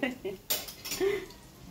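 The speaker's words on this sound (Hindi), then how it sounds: "हम छोटे स्पून से पलट रहे हैं, बड़े से निकालेंगे।" A small spoon turns onion and potato pakoras frying in a pan at home. Close metallic clinks and scrapes against the pan sound over a faint sizzle, with a few sharp knocks.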